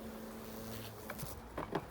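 Agitated Buckfast honeybees buzz faintly inside an open hive, a low steady drone with a few brief, louder flutters near the end.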